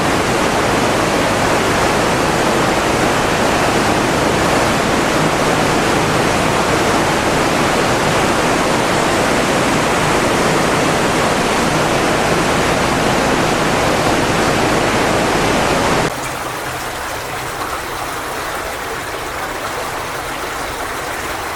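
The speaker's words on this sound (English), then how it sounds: "Looks like we've got another waterfall ahead." A waterfall inside an underground river culvert with a concrete, parabolic roof, roaring as a loud, dense, unbroken rush that fills the space, then abruptly drops to a quieter, thinner wash of flowing water near the end.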